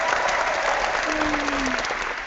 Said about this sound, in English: Let's give a little applause for that.